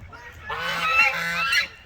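Geese honk loudly and close at a chicken farm in The Acreage, a dense overlapping chorus of calls lasting over a second and then tapering off, with no talking over them.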